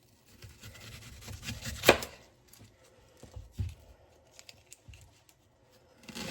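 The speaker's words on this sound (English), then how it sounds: "I'm gonna go ahead and start chopping up all my toppings" A knife chops white onion and other toppings on a cutting board: scattered, fairly quiet chops and taps with one sharper strike early on, in a quiet kitchen with no talking.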